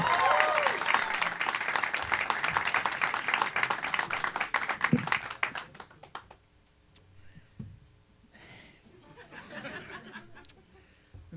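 A stand-up comedy show crowd applauds loudly for about six seconds, mixed with cheers and chuckles, then the clapping dies away to scattered laughter and a few claps under a quieter room.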